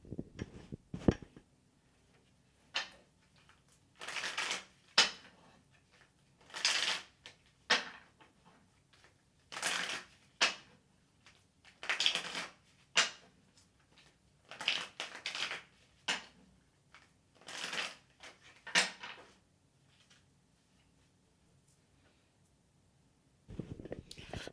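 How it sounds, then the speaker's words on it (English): Tarot cards being shuffled in repeated quick riffling bursts, close and soft, separated by brief quiet gaps over a low background, with no talk. "I'm going to shuffle my tarot cards"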